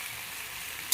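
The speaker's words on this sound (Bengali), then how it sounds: "আর বেশিক্ষণ না, আর হালকা একটু ভাজবো।" Prawns and kochu (taro) stems fry in a pan with a steady, close sizzle and hiss that holds through the brief moment, ending in a slightly louder burst.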